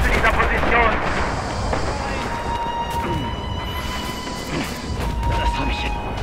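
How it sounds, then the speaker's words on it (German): Artillery fire from the Red Orchestra 2 WWII shooter on the Myshkova Blitzkrieg map: a dense, continuous barrage of booms and gunfire rumbling loudly, with voices talking over the battle. "Schickt Artillerie zu dieser Position!"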